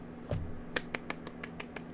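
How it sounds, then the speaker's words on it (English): A few soft, slow claps ring out one at a time in a small quiet room over a low steady hum, a light golf-clap rhythm of about eight taps. "Golf clap."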